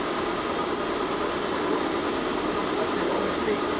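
A 36-inch Bullard vertical turret lathe with side head and swivel pentagon turret runs at its lowest speed, 6.6 RPM, producing a constant, even mechanical hum and hiss with no breaks or talk.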